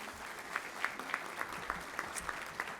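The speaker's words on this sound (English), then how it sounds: "You all give Matt a round of applause this morning." Audience at a county judge-executive candidate forum gives a brief round of applause, a scattering of distinct claps over a low room murmur, moderately near and lasting under three seconds.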